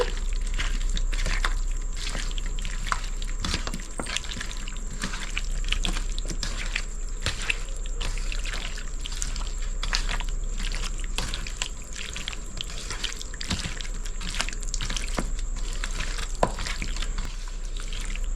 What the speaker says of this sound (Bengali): চলুন বন্ধুরা, আমি চিকেনটা ভালো করে মেখে নিচ্ছি।